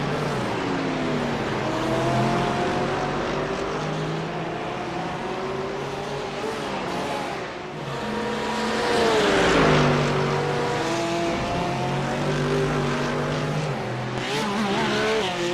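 GT3 race cars, among them a Mercedes, howl around the Imola circuit in a racing game, engines rising and falling in pitch through gear changes, loud and continuous, with several cars layered close together.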